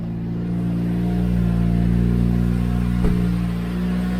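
A turbocharged Toyota Corolla with a manual transmission, its engine droning in a loud, close steady rev that swells gently as the clutch is let out, with a brief knock near the end.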